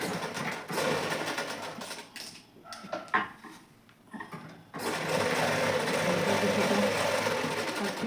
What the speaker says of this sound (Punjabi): ਹਨਾ ਮਸ਼ੀਨ ਤੇ ਲਿਆਏ ਤੇ ਹੁਣ ਆਪਾਂ ਨੇ ਨਾਲ ਚਪਿਆ ਹੋਇਆ ਬਿਲਕੁਲ ਨਹੀਂ ਹੱਲੂਗਾ ਸਲਾਈ ਮਾਰਨੇ